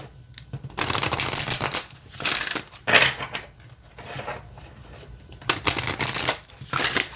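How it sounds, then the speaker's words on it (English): Stiff oracle cards being riffled and shuffled in several bursts, a crisp close fluttering rattle with brief pauses between shuffles. "so you can shuffle it in a couple different ways"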